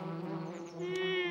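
Cartoon bee buzzing near a flower while collecting nectar, a steady close drone with a slightly wavering pitch and no voices over it.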